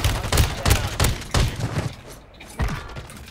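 Bursts of fire from a BAS-B rifle in Call of Duty Warzone boom out close and loud in rapid, uneven clusters, with short gaps between volleys.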